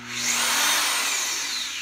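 A modular tubing notcher cuts into square tube with a pulsed feed, giving a steady, loud, broad grinding whine that swells and holds with slight surges as the cutter bites.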